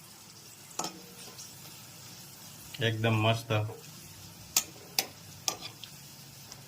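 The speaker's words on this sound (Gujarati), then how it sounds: "જો મસ્ત કારેલાની કાચરી તળાય છે" Bitter gourd chips fry in oil with a steady soft sizzle, broken by a few sharp clicks of stirring, while a voice briefly speaks over it.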